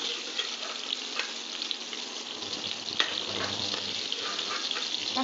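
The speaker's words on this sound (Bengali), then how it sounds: "টমেটো ভাজা হয়ে এসছে," Chopped tomatoes frying in oil in a pan for a paneer masala curry, a continuous close sizzle and crackle with a few soft stirring scrapes, no voices.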